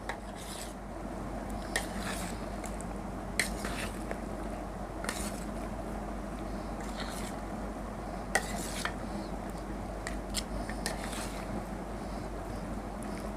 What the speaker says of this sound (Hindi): इसको अच्छी तरह ऐसे मिक्स कर लेंगे। थोड़ी क्रीम कम है तो इस पर थोड़ा ये क्रीम और डालेंगे।